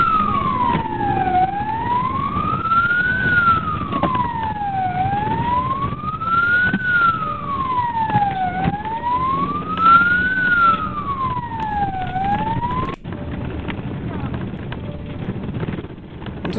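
A police car siren wails in a steady rising and falling cycle during a chase in Wrocław, Poland. It is loud and close over rumbling traffic and engine noise, then cuts off abruptly near the end.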